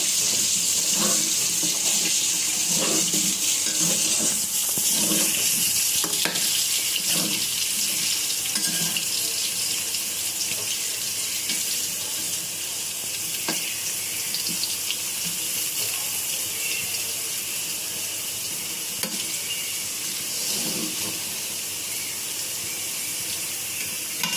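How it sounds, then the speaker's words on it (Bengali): Potatoes frying in oil make a continuous, fairly loud hissing sizzle throughout, with occasional soft clicks and stirring knocks mixed in. "এই যে আলুগুলো ভাজতেছি আপনাদের"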